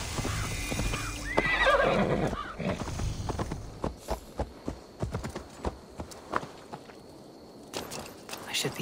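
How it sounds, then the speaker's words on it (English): A horse in Assassin's Creed Valhalla lets out a loud whinny, then its hooves clip-clop in a steady, close rhythm as it labours uphill. "Oh man, the horse struggles up hills."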